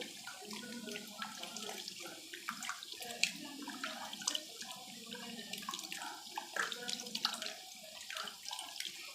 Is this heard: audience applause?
no